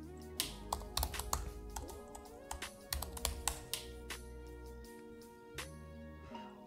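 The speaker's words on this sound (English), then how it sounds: "I can type this in," Keys clatter on a computer keyboard in quick, irregular bursts of close taps, typing over a steady tonal background hum.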